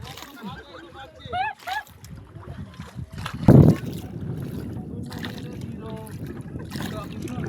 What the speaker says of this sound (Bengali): এবার দু হাতে পাল চালাচ্ছে